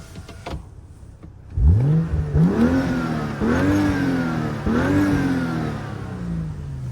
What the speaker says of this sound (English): let me actually just give you guys a quick little rev so you can hear it